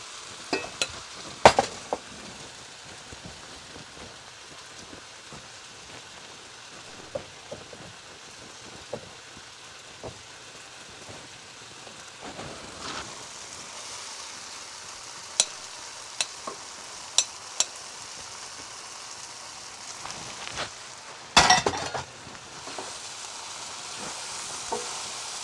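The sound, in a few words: stir-frying Hakka noodles with chicken on high heat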